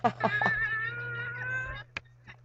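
A pet cat gives a drawn-out meow, heard close and fairly clear over a low steady hum, followed by a couple of short faint sounds.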